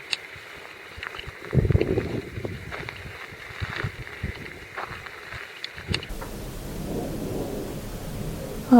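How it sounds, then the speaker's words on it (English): Rain and thunder outside a tiny house with a wood burning stove in the UK, low rumbling thunder rolling under a steady patter of rain, heard from indoors, with the rain shifting to a softer wash near the end. "Oh, it's raining."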